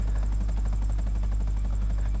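A helicopter in the GTA video game, spawned inside a tunnel, gives a steady loud rotor drone with a fast rhythmic chop and constant low rumble, heard alone without talk.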